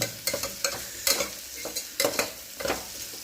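Cashews and spices for a varagu (kodo millet) rice biryani are stirred in a frying pan, a spoon scraping in quick uneven strokes over a soft sizzle, close and fairly loud, with no talk.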